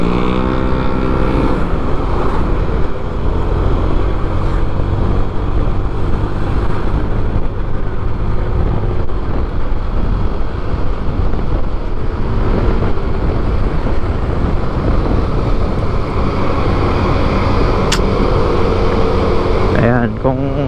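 A Honda Click 125i motor scooter strains uphill on a mountain road, its engine droning steadily under heavy wind buffeting throughout, with the rider talking over it.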